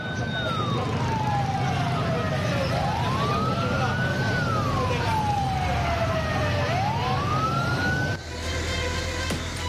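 Fire engine sirens wail in long rising and falling sweeps during a fire at a market in Payakumbuh, West Sumatra, steady and fairly loud over rumbling traffic and crowd noise, cutting off near the end.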